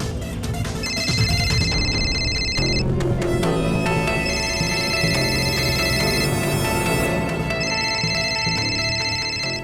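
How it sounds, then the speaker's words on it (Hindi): A telephone rings on and off under a tense crime-drama interrogation scene, its repeated electronic ringtone bursts loud and close over a dense musical background, with no talking. "बॉस का फोन है।"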